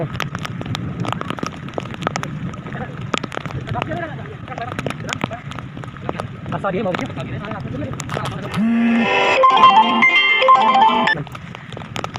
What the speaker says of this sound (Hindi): बरसात आ भी रही है